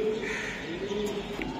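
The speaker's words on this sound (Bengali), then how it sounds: "দর্শক এই যে দেখেন কবুতর গুলা" A pair of club racing pigeons coo in a low, droning murmur close by, with a few faint higher chirps over steady room noise.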